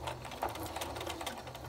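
A sewing machine runs steadily through a quilt-as-you-go mug rug with selvage edges, backstitching at the start of the seam with a continuous close mechanical whir and rapid rhythmic needle ticks, and no voices.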